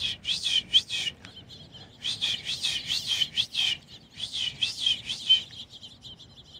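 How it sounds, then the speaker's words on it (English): Many birds chirp and tweet in repeated bursts of dense, overlapping calls, fairly close and moderately loud, with short pauses between the flurries and a low background rumble. "There's at least 50 birds in there."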